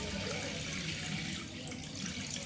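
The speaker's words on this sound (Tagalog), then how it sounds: "subukan natin mag-gripo. Yan, tumutulong po." Water runs steadily from a newly installed faucet into a simple sink, a continuous splashing stream that stays close and fairly loud throughout, with no talking.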